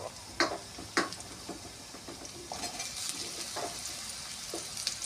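Papaya and pumpkin tipped into potatoes already frying in a pan for a Bengali chorchori, giving soft sizzling with a few sharp clinks and scrapes of a utensil against the pan.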